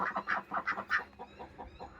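Several ducks quack in a quick, faint, nasal series of calls, close together at first and then trailing off softer.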